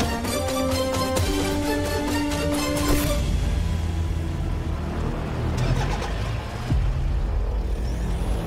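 A car engine hums and revs as the vehicle pulls away, with bright tonal music-like layers early on before the steady motor rumble carries on alone, fairly loud and near.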